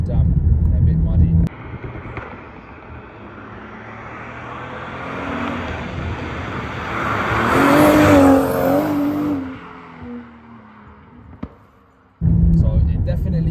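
A BMW M240i F22 with the B58 engine accelerates hard on a damp, muddy road, the engine note rising and swelling as the tires scrabble for grip, with someone talking over it.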